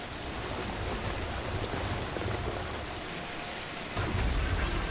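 Steady rain in Death Stranding, a dense, even hiss of falling drops that stays loud and unbroken, with a low rumble swelling near the end and no voices.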